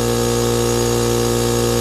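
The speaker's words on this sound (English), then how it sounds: "The sound you are hearing is the powerful Porter cable compressor putting the air in the ErgoChair ball." A Porter Cable air compressor running while it inflates an ErgoChair exercise ball, a loud, steady mechanical drone with a constant hum and no break.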